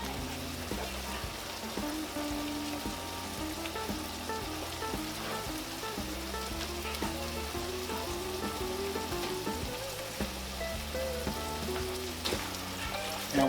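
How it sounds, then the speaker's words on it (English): Hamburger meat and chopped onions browning in a pan for shepherd's pie, a steady dense sizzle running throughout at an even level, with a low rhythmic background layer beneath it. "we're going to continue to let our hamburger meat brown"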